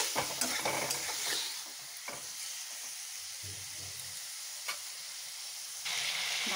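Chicken pieces fry in a pan with a little salt and turmeric, giving a steady close sizzle broken by scraping stirs and a few sharp clatters, with no talking.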